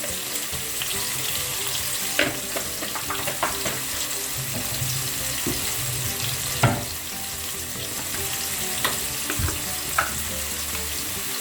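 About a teaspoon of cumin seeds crackling in hot oil as a rasam tempering: a continuous bright sizzle dotted with small pops and occasional spoon knocks, close and unvoiced.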